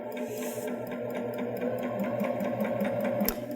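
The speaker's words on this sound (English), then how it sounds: "So we're going to stitch to the corner." A Baby Lock Jazz II sewing machine stitching fabric up to a corner, a continuous close, steady mechanical hum with fast regular needle ticks throughout.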